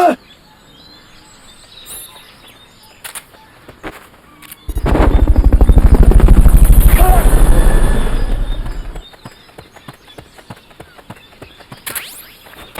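A helicopter in the video game Metal Gear Solid: Peace Walker chops in with a loud, rapid rotor thumping that swells for about four seconds, then drops away, leaving sparse clicks and small game sounds.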